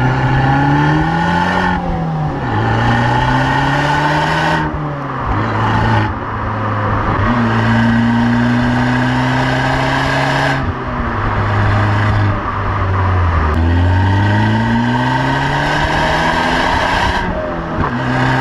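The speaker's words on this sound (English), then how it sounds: "It's just the perfect exhaust note to match this car." Abarth 595 Turismo on its standard exhaust, revving up through gears with rising engine pitch, brief drops at each shift, then climbing again; loud and close, no talking.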